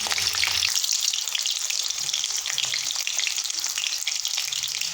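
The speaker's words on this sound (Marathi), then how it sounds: "आता पूर्ण टमाटे मस्तपैकी आपण भाजून घेऊ" Whole green tomatoes roasting in an oily pan: a continuous close frying hiss and crackle over about five seconds, with small spattering pops throughout.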